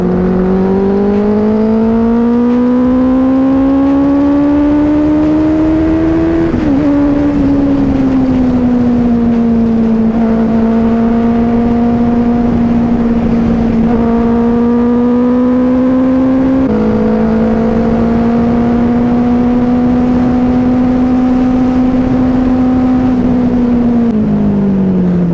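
A Ducati Panigale V4 motorcycle engine hums loud and close while riding, a strong steady tone that rises and falls with several sudden shifts in pitch as gears change, with no talk over it.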